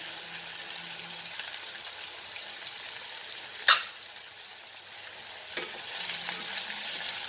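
Marinated beef being fried and stirred with dry spices for Goan beef roast, a quiet sizzle under two sharp utensil knocks, the frying swelling slightly louder near the end.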